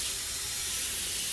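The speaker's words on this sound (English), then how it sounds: "I'm going to run the hot water to see if this has to be changed" Hot water pouring steadily from a tap in a rental home, a constant broad hiss of running water close by with no other sounds or voices.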